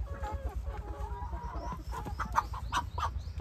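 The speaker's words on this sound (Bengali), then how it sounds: "এগুলো সব মেয়ে মুরগি তো" Hens cluck repeatedly at a chicken seller's home, their short calls rising over a low, busy background hum and scattered faint voices.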